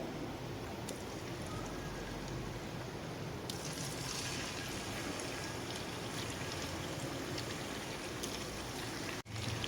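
Washed chicken pieces fry in hot oil for chicken nihari, a dense steady sizzle with a faint crackle running for several seconds without pause, moderately loud and close.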